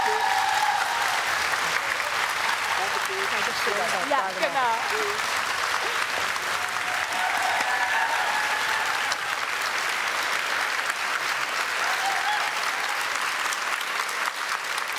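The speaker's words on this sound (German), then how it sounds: "Einen ganz großen Applaus bitte" Sustained applause from a live show audience fills the whole stretch, steady and dense with clapping, while a few brief spoken words come through over it.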